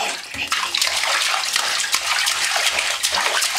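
A small child splashes water in a bathtub, a continuous close wash of sloshing and slapping water with bright repeated splashes and no pause.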